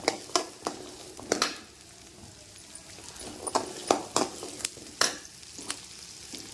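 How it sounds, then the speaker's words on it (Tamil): Onions sautéing in a pan for mutton kuzhambu, a steady low sizzle broken by repeated sharp scrapes and knocks of the spoon stirring, close up and with no talk. "எடுத்து வச்சுருக்க வெங்காயமெல்லாம் போட்டு நல்லா வதக்கலாம்."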